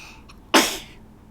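A single sharp sneeze bursts out close by after a faint intake of breath, then fades into quiet room tone.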